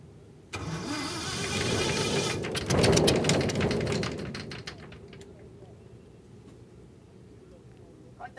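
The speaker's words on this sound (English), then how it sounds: "Then, a battery is brought in to kickstart the engine." A Ghanaian-built light aircraft engine is started with a battery, bursting to life with a loud rising roar and sharp clatter that swells, then settles into a steadier running drone.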